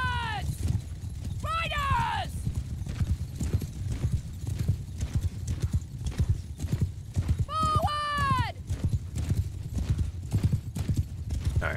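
Massed cavalry hoofbeats from horse archers galloping in the video game Mount and Blade II: Bannerlord, a dense continuous clatter with several horse whinnies, while someone talks over it.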